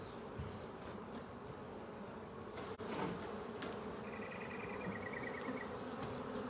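Honey bees draw out wax comb on a hive frame during a spring hive split, making a steady, soft, close buzzing drone with occasional louder individual passes and faint handling clicks.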